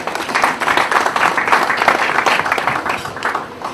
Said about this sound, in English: Let's give Jackie a round of applause.